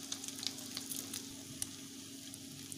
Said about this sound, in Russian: После вбиваем по 1 яйцу и вилочкой перемешиваем.